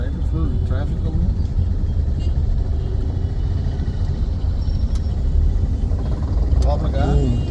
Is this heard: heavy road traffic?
yes